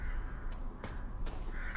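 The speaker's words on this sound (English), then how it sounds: "Goddamn crows." Crows cawing in the video game Resident Evil Village, three or four harsh separate caws about half a second apart over a low eerie ambient drone, fairly close and clear, with no speech.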